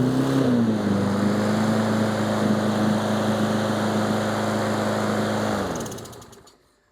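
A Troy-Bilt lawn mower's small gas engine runs at a steady, loud idle close by, droning evenly for several seconds before being shut off and winding down to silence.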